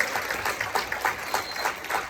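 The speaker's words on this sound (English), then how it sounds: "So let's give them another round of applause." An audience applauds a high school jazz combo at a spring band and choir concert, with moderate clapping from a crowd that holds steady and sounds somewhat distant.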